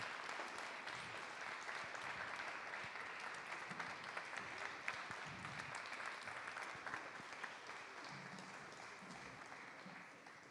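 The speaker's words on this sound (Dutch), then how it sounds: "geef ze een hartelijk applaus" Steady, fairly distant applause from a crowd welcoming a children's council at a civic ceremony in Maastricht, continuous clapping that stays even throughout and fades slightly at the end.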